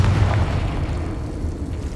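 A Confringo fire spell bursts in Hogwarts Legacy, a deep, rumbling boom that fills the short moment and rolls off without a clear end.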